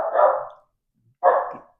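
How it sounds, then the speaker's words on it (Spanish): A dog gives two loud, close barks about a second apart, separated by silence. "Previo ladrido, aunque perturbador no tanto."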